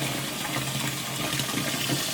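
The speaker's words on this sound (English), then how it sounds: "Get a big pot of water." Tap water gushes steadily into a big pot, a continuous splashing hiss at moderate loudness with no voices.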